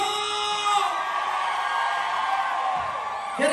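A concert audience at a show shouts and whoops together, a loud sustained roar of voices with rising cheers near the end.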